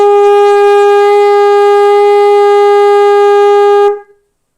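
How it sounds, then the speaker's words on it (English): A shofar sounds the tekiah, one long sustained blast held steady and loud for about four seconds before cutting off cleanly, alone with no talk. "There's the tikiyah, which is the long note."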